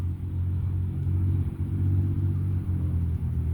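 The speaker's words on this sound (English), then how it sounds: "See, that's not a typical muffler." A car with a loud, non-standard modified muffler, giving a deep, steady droning rumble with slight revving swells, continuous and fairly close, no voices.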